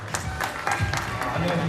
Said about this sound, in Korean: 여러분 큰 박수로 환영해 주시기 바랍니다